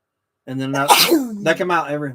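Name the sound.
sneeze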